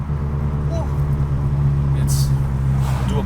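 The engine of a Honda Civic Si, recently repaired, hums steadily from inside the car while driving, a low constant drone under intermittent talk.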